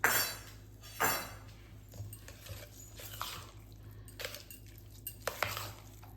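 Curd rice being stirred in a pot, with soft scraping and clinking of a spoon against the pot in a few brief strokes, fairly quiet and close, with no voices.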